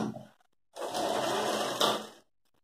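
Sewing machine stitching the pocket of a handmade traditional cloth bag, one steady whirring run of about a second and a half, close and clear after a short quiet pause.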